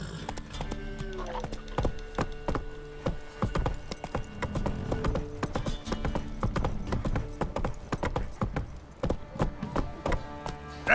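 Horse hooves clip-clop steadily at a gallop in The Witcher 3 video game, a loud, continuous rhythmic pounding with an occasional whinny and game music beneath.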